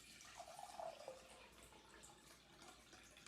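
Two cups of water are poured for a lemonade syrup of sugar and honey, a faint, steady trickling wash running throughout with no speech.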